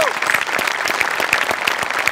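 Steady applause from a theatre audience at a comedy performance, dense clapping filling the whole stretch at even loudness, with a few whistles rising above it.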